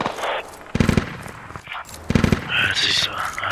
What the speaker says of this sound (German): Hier schießt irgendwo ein MG.